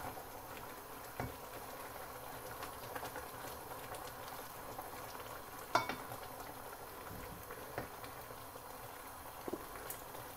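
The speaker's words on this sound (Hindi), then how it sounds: "साग देखिए हमारा पकने लग गया।" A pot of saag made with kale and broccoli simmers quietly, with soft bubbling and occasional faint clinks and spoon taps at a distance.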